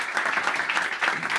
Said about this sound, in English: let's give everyone a wonderful round of applause